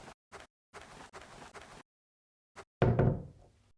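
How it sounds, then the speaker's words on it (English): In the video game Exit Sign, a door is banged on in quick knocks, then a few more, followed by one heavy slam that rings and fades, close and loud with no voices. "I just opened doors by banging them twice."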